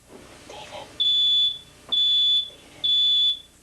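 A hallway smoke detector sounds during a home fire drill, emitting three loud, shrill, evenly spaced half-second beeps over a quiet room.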